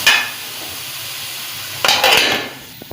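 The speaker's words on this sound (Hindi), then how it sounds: "इसको तकरीबन 5 से 10 मिनट के अंदर भूनेंगे, ताकि ये अच्छी तरह गल जाए" Beef keema sizzles in a pot, a steady frying hiss, then a spoon stirs and scrapes the meat with a louder burst of sizzling and a few metal clinks.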